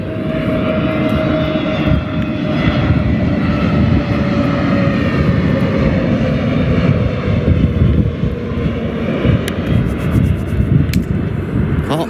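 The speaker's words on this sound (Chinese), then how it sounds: "这边来了一架南航的787梦想客机，马上准备起飞。" A China Southern Boeing 787 Dreamliner jet airliner at an airport, preparing for takeoff, gives a loud, steady engine roar that rumbles on without a break for the whole stretch.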